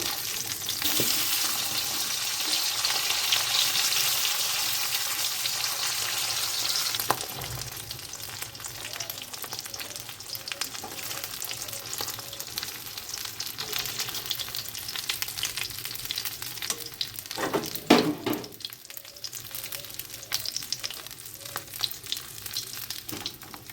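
Leftover fish being lightly fried in a home kitchen pan, a continuous close sizzle and crackle that fades a little, with occasional stirring clatter and a louder burst partway through, no voices.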